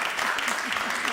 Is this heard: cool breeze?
no